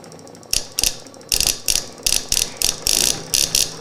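Homemade pulse motor spinning fast, giving off a rapid series of sharp ratcheting clicks and mechanical bursts in an uneven rhythm, close and fairly loud with no talking.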